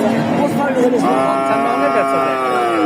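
At a busy heifer market in Bogura, Bangladesh, a cow lets out a long, loud moo close by, rising then holding, over a crowd murmur and background voices.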